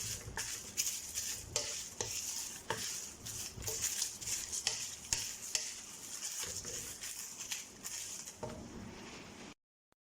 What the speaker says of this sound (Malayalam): നല്ല രീതിയിൽ ഇളക്കി ഇളക്കി തന്നെ നമ്മളിത് ഒന്ന് ചൂടാക്കി എടുക്കണം